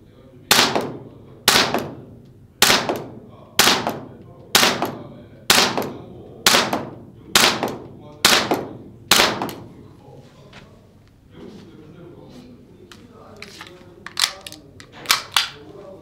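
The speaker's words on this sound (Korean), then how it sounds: "일단 사격을 한번 해보도록 하겠습니다 5m 테스트 사격" A Tokyo Marui Glock 17 Gen5 MOS airsoft pistol fires ten sharp, snappy shots at a steady pace of about one per second, each crack with a short mechanical clack, followed by quieter handling noises and a few final clicks.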